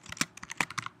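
Computer keyboard typing while writing code, a quick, close burst of a dozen or so crisp key clicks in uneven rhythm.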